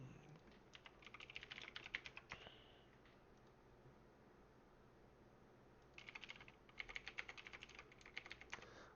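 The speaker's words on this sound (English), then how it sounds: "don't know if you guys can hear my keyboard" Rapid typing on a computer keyboard in two bursts, quick soft clicks close by, separated by a few seconds of quiet, faint and steady.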